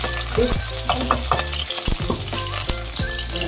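Ginger sizzles and crackles in a hot pan while being stir-fried for ginger chicken with white wine, with loud close sputtering and repeated scraping stirs of a utensil.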